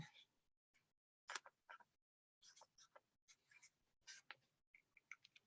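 A pen scratches across paper in short, irregular strokes, close and quiet against near silence, with faint breathy noise and no speech.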